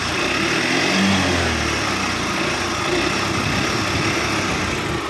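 A 2011 scooter's small engine runs steadily and smoothly at a close, even idle-like drone with no pauses.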